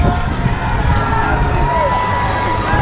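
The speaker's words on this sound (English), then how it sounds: "The crowd here is just unbelievable. I don't know how much of it you can hear, but they're going crazy." Spectators at the London Marathon near Tower Bridge roar and cheer runners, a loud continuous wash of shouting and whooping voices close around, unbroken for a few seconds.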